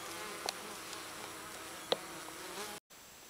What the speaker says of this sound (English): Lots of bees on the rabbit brush, about the third week in September.